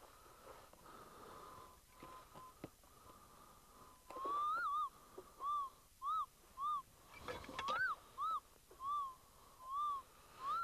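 A Minelab Eureka Gold metal detector sweeping dry wash piles gives a series of rising, warbling beeps that pulse about once a second over a hissy, noisy threshold hum.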